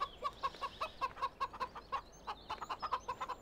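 Hens cluck in a steady run of short, rhythmic calls in the farm game Farming Simulator 2013, moderately close and alone with no talk over them.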